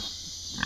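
A short, faint pig grunt rises at the very end of a brief stretch of quiet background hum.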